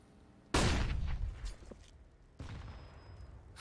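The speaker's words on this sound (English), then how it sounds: "Wallbangs being sent back and forth." Counter-Strike wallbang gunfire shot through walls: one loud, sharp report with a ringing tail, a few faint pops after it, then a second, duller burst of shots.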